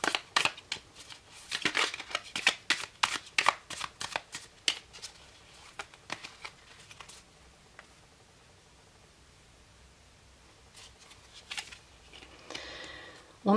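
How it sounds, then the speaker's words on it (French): Tarot cards are shuffled and handled in close, crisp bursts of papery riffling and rustling, quieting midway and returning in short flicks near the end, with no talk over them. "on va prendre une carte comme carte conseil"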